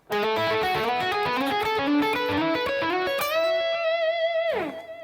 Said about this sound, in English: instead we're going to add in a bend right at the end of the lick